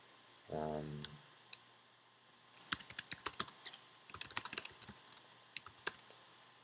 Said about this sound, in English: So I can type in again our address here.